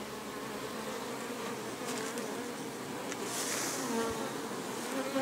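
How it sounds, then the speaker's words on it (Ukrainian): Bees swarm in a log beehive packed full of them, giving a dense, steady buzzing drone that stays close and constant throughout, with no voices. "Повна колода бджоли."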